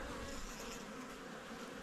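Italian Cordovan honeybees buzz densely and continuously on a honey frame at a hive, a close, steady hum with no talk.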